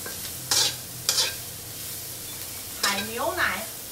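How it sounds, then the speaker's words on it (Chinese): Oysters stir-fry in oil with chili bean paste under a low background sizzle, with a few sharp bursts of spatula scraping. A short voiced sound comes near the end. "然后一样稍微翻炒，让它均匀吸附油沫，接触油沫。"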